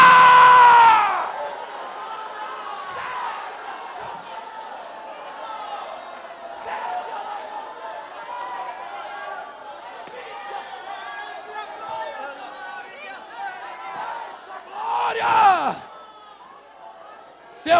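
A Pentecostal church congregation lets out a cry of glory, a loud burst of shouting and cheering from many voices that fades into scattered murmurs and calls, then swells again in a second shorter outburst near the end.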